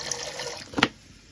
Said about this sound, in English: I'm just going to top that water up now so they're covered.